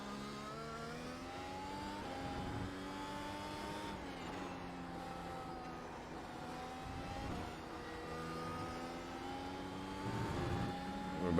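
A Mercedes W13 race car engine in iRacing, a loud sustained whine of stacked harmonics climbing through the gears and dropping at each shift, continuous and close.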